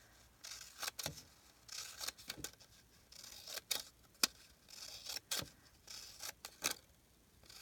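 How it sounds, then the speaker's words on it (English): Scissors snip paper strips for a paper tassel in a series of crisp, close cuts, several quick snips repeated at an uneven rhythm with no talking. "cutting your little strips all along"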